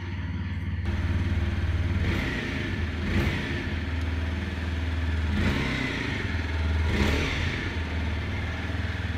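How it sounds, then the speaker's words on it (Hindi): A 2025 TVS Apache 160 4V motorcycle starts and idles close by with a steady low exhaust thrum, punctuated by a few short throttle blips that swell and fade. "अब एक बार बाइक को स्टार्ट करके एग्जॉस्ट नोट भी सुन लेते हैं"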